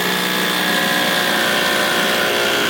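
Milwaukee M18 Fuel rotary hammer drills continuously at full power, a loud, dense, close motor whine and hammering rattle that holds steady without a break.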